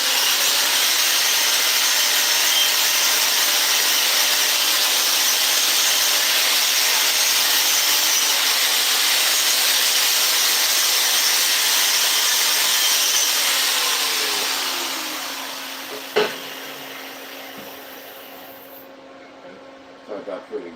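A power grinder cleans off a weld bead, running as a loud continuous abrasive hiss and whine for most of the stretch before spinning down, followed by a sharp clank and a few faint knocks.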